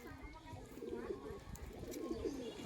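Pigeons coo in soft, repeated low throaty calls close by, under someone talking steadily throughout.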